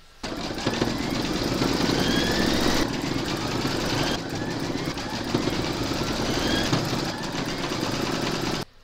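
An embroidery machine stitches text around a bookmark design in rapid, even mechanical chatter, close and steady with a brief pause partway through before resuming, then stopping at the end.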